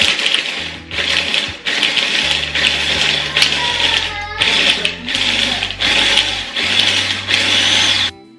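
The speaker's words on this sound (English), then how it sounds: "so we are going to use this food processor." Food processor crushing ice for halo-halo, loud whirring bursts in a series of short pulses with brief pauses between, ice rattling against the blade throughout.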